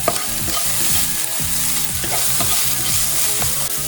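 Potatoes with chopped curry leaves and salt sizzle in a pan while a utensil stirs them, steady frying hiss broken by repeated rhythmic scraping strokes, close and fairly loud.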